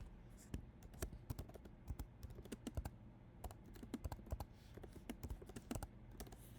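Quick, irregular clicks of typing on a computer keyboard, quiet and close, keys tapping in short bursts with small pauses between them.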